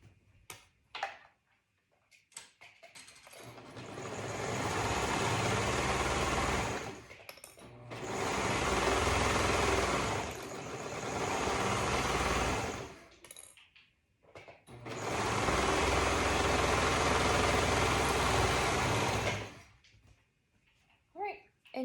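A sewing machine stitches a cuff onto a dolman top in three long running bursts, loud and close, separated by short pauses filled with faint handling noises.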